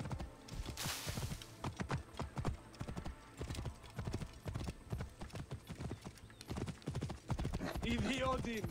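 Horse hooves clip-clop in a steady trotting rhythm in the video game Assassin's Creed Origins, close and fairly loud, with an occasional whinny and game sounds mixed in.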